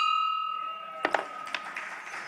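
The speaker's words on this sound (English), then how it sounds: "Past President Peter Sheriff rings the bell" A bell rung at a Rotary club meeting gives a few bright, ringing strikes close by. They fall over about a second after a steady tone, then fade.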